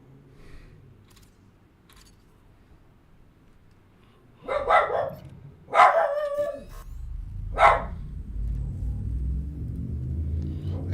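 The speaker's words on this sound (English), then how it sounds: "And the dog is having a fit." A dog named Chester barks indoors in three or four loud, sharp bursts after a quiet stretch, with a low rumbling hum underneath throughout.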